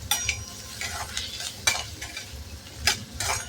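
Onion frying in homemade ghee for upma sizzles softly in a pan while a spoon scrapes and stirs it in a few distinct strokes, heard close with no talking.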